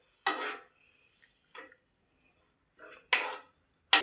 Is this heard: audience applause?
no